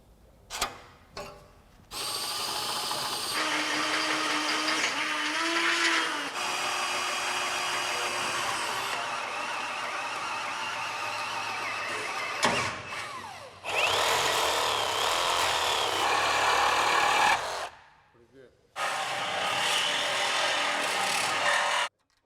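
Loud power-tool cutting through a steel 1963-1972 Chevrolet C10 truck frame in several long bursts with short pauses between, a high grinding whine filling the space.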